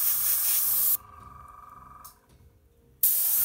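An airbrush sprays thinned paint with its compressor set to 30 psi, giving a loud, steady hiss that drops away for about two seconds midway and then resumes at full strength.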